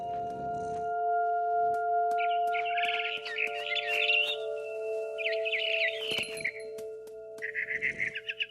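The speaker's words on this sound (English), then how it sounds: "Then I heard chirping outside my window. It was a barn swallow going back to her nest." Barn swallow chirping in the video game What Remains of Edith Finch, bursts of high twittering calls over a steady background music drone, with occasional soft clicks and thumps; moderately loud and close.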